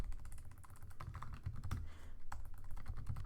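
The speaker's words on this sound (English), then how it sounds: "My typing is bad, sorry." Rapid, close typing on a computer keyboard, irregular clusters of key clicks with no speech over them.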